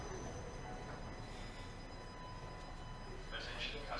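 Faint, steady rumble of a Toronto Line 1 subway train idling or rolling slowly at Bloor-Yonge Station, with a low mechanical hum and a soft high whine in the background.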